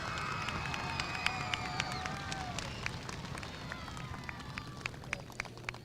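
Applause from a crowd at the Bridgeton Public Schools Parade of Champions, dense clapping heard faintly and at a distance as the school board vice president heads to the podium.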